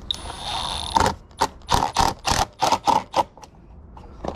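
A small screw driven back into a car part during a muffler repair, a close run of about a dozen quick ratcheting clicks in steady rhythm.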